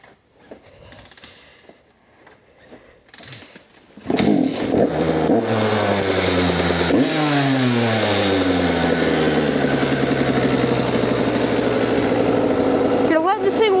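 A KTM dirt bike engine, unstarted for eight months, sputters, catches, then settles into a steady loud idle after a few quiet knocks and rustles, with pitch wavering slightly as it warms up in cold weather.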